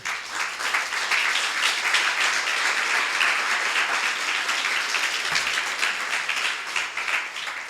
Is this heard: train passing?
no